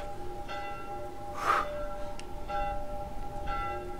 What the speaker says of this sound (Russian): А у них тут тревожный колокол, я смотрю, звякает, да?